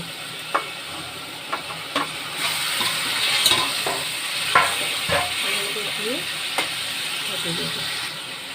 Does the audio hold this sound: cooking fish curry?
yes